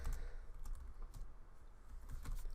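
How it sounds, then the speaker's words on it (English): Rapid, uneven keystrokes on a computer keyboard clatter close up and steady, with no talking over them. "trying to talk and type at the same time is not easy"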